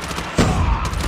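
Gunfire in the mobile shooter COD Mobile during a 10v10 match: a dense burst of automatic shots starts partway in and keeps rattling loudly to the end, with no talk.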